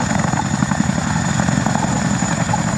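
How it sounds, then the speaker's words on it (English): RAF Chinook twin-rotor helicopter balancing on its aft wheels on a runway at an airshow, a loud continuous rotor thrum with rapid blade chop and steady engine whine. "Whirly uses the unique aerodynamic qualities of the Chinook to balance on its aft wheels"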